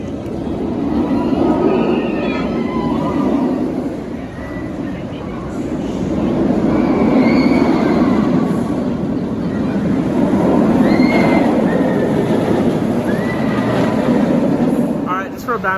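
Batman roller coaster at Six Flags Over Texas thunders along its track, a loud sustained roar with rising and falling mechanical whines and rumbles throughout the ride.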